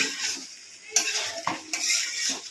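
Chicken curry being stirred and scraped in a pan, with a soft sizzle under several metallic clanks and scrapes of a spoon against the pan, close and moderately loud.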